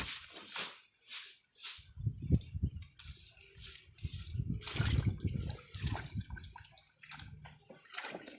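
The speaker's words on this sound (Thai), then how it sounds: "เราจะล้างทั้งหมดสองน้ำนะคะเนาะเพื่อที่จะเอา เศษดินนะคะออก" Fresh turmeric roots sloshed and rubbed in a basin of water to wash off soil, with repeated splashes and swishing, close and moderately loud.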